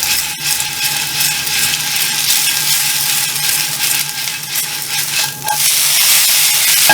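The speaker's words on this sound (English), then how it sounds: "I keep shaking them around because at some point I'm going to have to flip these noodles." Noodles pan-frying in oil with a loud, continuous sizzle, punctuated by rustling scrapes and rattles as the pan is shaken back and forth.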